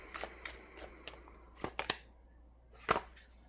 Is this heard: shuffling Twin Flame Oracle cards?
yes